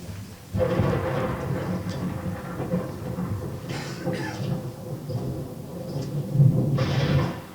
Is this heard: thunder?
yes